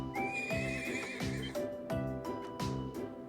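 A horse in the video game Trails of Cold Steel III neighs and whinnies, close and clear, with clip-clopping hooves and a steady repeating beat beneath.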